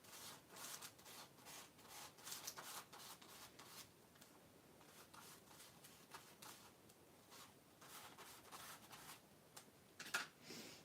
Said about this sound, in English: I'm just going to scrape this around a little bit just to soften the edges of this collage